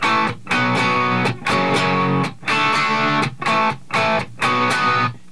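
Heavily distorted electric guitar power chords play the rhythm part of an 80s hit, loud and close, in steady repeated bursts separated by brief choked gaps.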